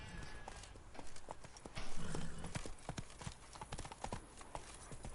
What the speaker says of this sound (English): Let's get back on the horse and follow these.